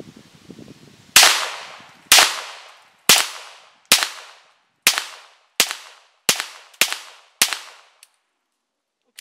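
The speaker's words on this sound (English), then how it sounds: "So I'm going to throw a few rounds downrange." Nine sharp gunshots from a Ruger Standard .22 pistol fired downrange, loud and close, spaced about a second apart with short decaying tails, followed by silence.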